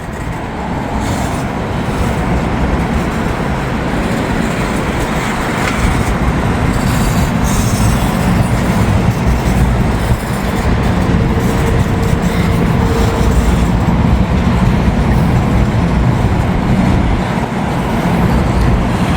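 A freight train with container cars rumbles past close by in Kentucky, a loud continuous roar of wheels and cars with faint squeals that holds steady throughout.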